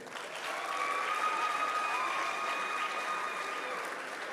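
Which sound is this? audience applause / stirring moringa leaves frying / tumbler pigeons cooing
audience applause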